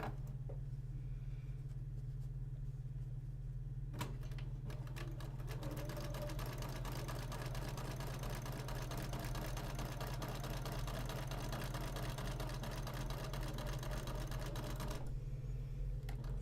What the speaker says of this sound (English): stitched our white and green together